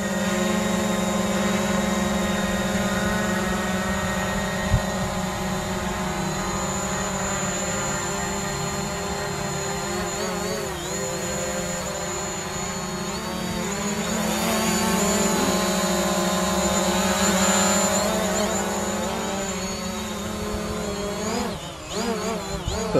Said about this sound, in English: So all I do is hit a button and it says takeoff, slide to takeoff, and it starts itself up